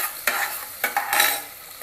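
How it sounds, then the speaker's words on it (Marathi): Chopped onions being stirred and sautéed in a pan until browned for a mutton curry, giving soft sizzling with a few scraping stirs of a spoon, close and without speech. "कांदा आहे तो चांगला लाल होईपर्यंत परतून घ्यायचा."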